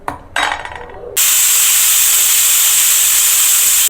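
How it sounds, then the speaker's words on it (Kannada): A kitchen pressure cooker lets out a loud, sustained steam whistle after a few brief clicks and rattles, the hiss holding steady and close to the end. "2 ವಿಷಲ್ ಕೂಗಿಸ್ಕೊಳ್ಳೋಣ."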